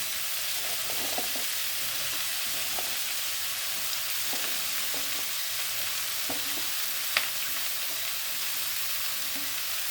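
Sliced onion sizzles in hot oil for an aloo posto dish, a steady crackling fry with occasional clinks and scrapes of stirring, close and continuous with no talk.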